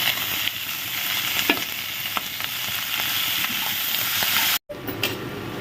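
Chopped onion and green chilli hit a hot pan and fry with a loud, steady sizzle and hiss and a few soft stirring taps, broken by a split-second dropout near the end.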